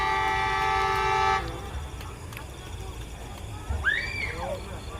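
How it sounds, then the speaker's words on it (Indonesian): A loud, sustained electric commuter train horn blares for over a second at a level crossing in Klaten, Central Java, then cuts off, leaving rumbling background noise with a few high whistling tones afterward. "Oh iya, KRL tuh suara klaksonnya."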